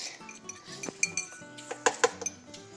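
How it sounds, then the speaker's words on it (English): Butter being worked into flour in a mixing bowl for buttery scones, heard as scattered clinks and scrapes of utensil against the bowl, with a few sharper taps close by and no talking. "So now just mix the butter. Mix the butter in."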